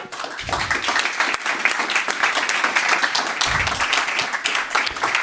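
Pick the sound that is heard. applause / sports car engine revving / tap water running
applause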